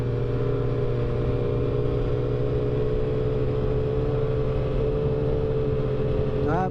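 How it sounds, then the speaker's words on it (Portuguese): Four-cylinder motorcycles move slowly through Indaiatuba in heavy bike traffic, giving a steady, continuous engine drone at moderate distance, with a faint rising rev near the end. "Muita moto, normal ser assim devagar."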